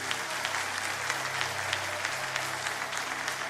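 A congregation at a worship service bursts into dense, steady applause, a loud continuous wash of many hands with no voices standing out, sustained for several seconds.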